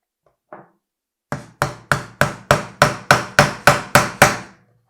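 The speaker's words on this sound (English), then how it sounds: "start nailing it in." Nails are hammered into a wooden birdhouse: one light tap, then a steady run of about ten sharp, evenly spaced strikes, close and loud with no talk.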